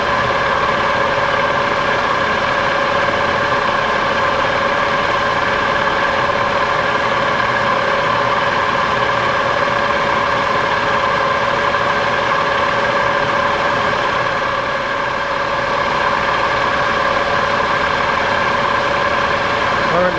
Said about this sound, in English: We're just making this cut in one pass. It's a 2-flute, half-inch, high-speed steel Niagara end mill.